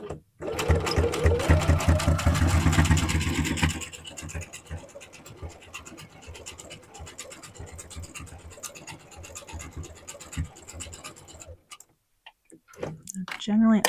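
A sewing machine stitches down a sleeve hem on knit fabric, a fast loud mechanical run for about four seconds, then quieter ticking and handling of the machine and fabric.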